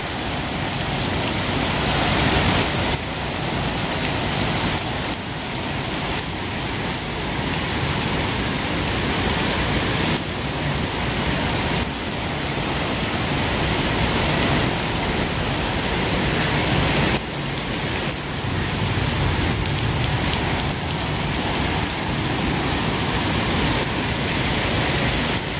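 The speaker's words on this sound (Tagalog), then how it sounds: "Suntong lakas ng ulan." Heavy rain pours down steadily on a hard surface at a factory in Jeddah, a dense constant hiss lasting throughout without pause.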